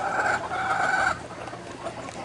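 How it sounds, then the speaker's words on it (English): A rooster at a hen house crows once, close and fairly loud, its call fading into quieter farmyard background. "right there's another rooster"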